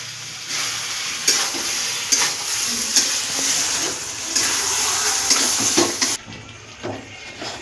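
Cooked chicken and fried potatoes in a pot take a splash of hot water, a loud gushing hiss and bubbling sizzle with stirring clatters, ending in a quieter simmer.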